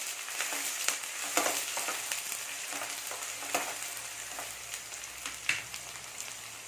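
Green chilies sauté in oil for a chana dal gravy, giving a continuous crackling sizzle broken by sharp pops and stirring scrapes at irregular intervals, fairly close.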